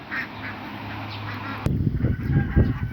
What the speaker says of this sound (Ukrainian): Качки на свободі, дала їм їсти і пити.